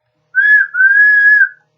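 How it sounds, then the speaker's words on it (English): A steam engine gives a clear, loud whistle in two blasts, a short one followed by a longer sustained tone, with silence on either side. "Edward whistled,"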